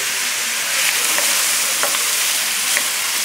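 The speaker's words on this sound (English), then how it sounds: "All you have to do is just keep cooking the onions" Onions frying in a pan over a moderate flame for onion bisque, a constant dense sizzle with a few soft stirring scrapes, close and steady with no speech.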